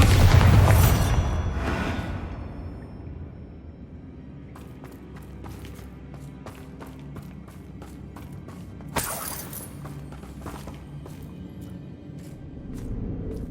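The Bombarda spell in Hogwarts Legacy sets off a loud booming explosion with shattering debris. Footsteps and scattered crackles follow under a low rumble, then a second sharp burst of impacts comes later.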